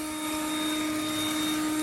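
Ryobi 40V HP leaf jet fan blower running flat out on a driveway, a loud, steady whooshing whine with a sharp tonal hum, heard close and continuous throughout.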